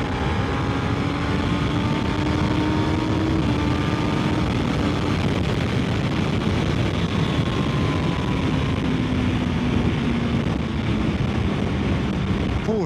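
A Suzuki GSX-S 1000 GX motorcycle engine drones continuously while being ridden, its pitch slowly rising and falling with speed under heavy, constant wind rush, with no voices.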